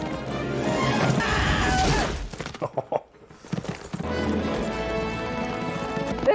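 Horse hooves clip-clop in a swashbuckling Zorro movie scene, loud and busy amid crashes and music, dropping out briefly midway before the full mix returns.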